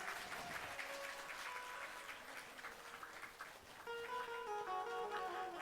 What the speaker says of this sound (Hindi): ताली क्यों नहीं बजा रहे हैं?